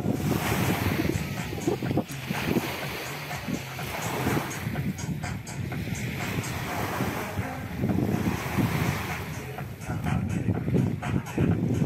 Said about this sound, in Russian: послушаем шум Средиземного моря